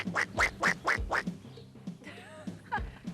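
A zoo bird mimicking a mallard duck call gives a run of about five loud, rhythmic quacks, followed by softer scratchy chirps and a final quack-like note.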